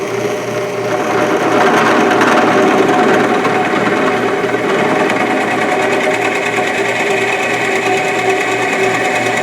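A steady, loud, continuous drill whine bores compound-angle holes into a wooden low paddle-back chair seat, running without a break for the whole stretch with no talk.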